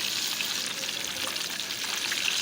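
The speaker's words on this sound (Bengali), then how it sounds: "এখন আমি রুই মাছের পিসগুলো ভেজে নেব" Pieces of rohu fish fry in hot oil with a dense, even crackling sizzle that holds steady and close throughout, with no voices.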